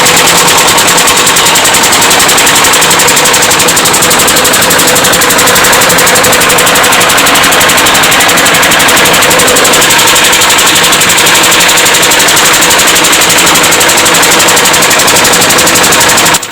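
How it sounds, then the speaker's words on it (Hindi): A loud motorcycle engine runs continuously at high revs with a rapid, rattling knock throughout, close and harsh, cutting off abruptly at the end. "देखिए अभी इंजन चालू होगा, फिर इसके बाद इसकी स्पीड बढ़ेगी।"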